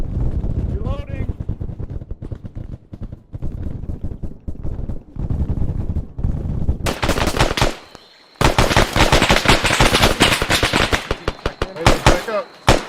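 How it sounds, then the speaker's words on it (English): Suppressive gunfire during squad training: dense bursts of rapid, loud automatic and rifle fire hammer through most of the clip, with a brief lull, while voices shout over it. "We need suppressive fire south."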